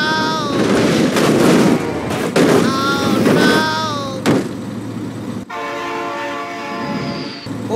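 Train passing close by with its horn sounding in several long, loud blasts, a sharp bang partway through, then a steadier horn chord over rolling rail noise.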